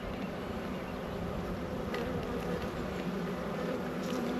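A dense mass of honeybees hums continuously around an open hive during an inspection, a thick, even, unbroken drone close by.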